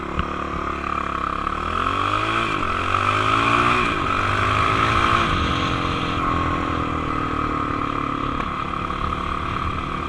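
A 2019 Honda CRF450L dual-sport motorcycle being ridden on a rural road, its single-cylinder engine droning steadily while rising and falling through gear changes, loud with constant wind rush over the rider's microphone.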